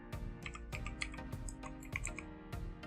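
A command being entered on a computer keyboard to fix blank Windows 10 taskbar icons, a short burst of several distinct key presses, close and clear, with no talking.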